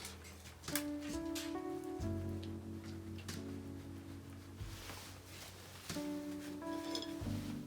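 Loose tea leaves shaken and swirled in a cup for tea leaf reading, a faint, steady patter and light clinking of the cup over soft background tones.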